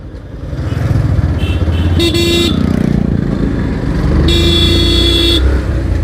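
A motorcycle rolls forward in gear on a half-held clutch, its engine droning steadily while other vehicles' horns toot in short blasts nearby on the road.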